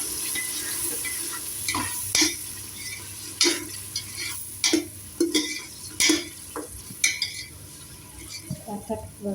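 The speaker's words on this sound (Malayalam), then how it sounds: "തക്കാളി ജ്യൂസ് ഒഴിച്ചു കൊടുക്കുന്നുണ്ട് കേട്ടോ." Pureed tomato sizzles and spits in a hot frying pan while a spoon stirs it, with repeated scraping and clinking strokes at an uneven rhythm over a steady frying hiss; no voices.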